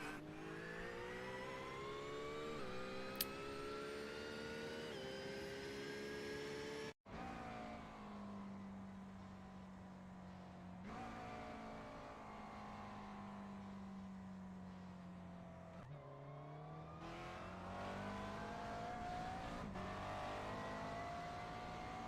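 GT3 race car engines from an iRacing sim race at Bathurst, steady loud revving that climbs and drops through gear changes, with one sharp cut and brief dropout partway through.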